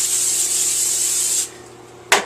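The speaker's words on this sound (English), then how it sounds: "I'm going to spray this aluminum down pretty well" Olive oil cooking spray hisses steadily onto aluminum for about a second and a half, stops, then a second short, sharp burst of spray follows at the end.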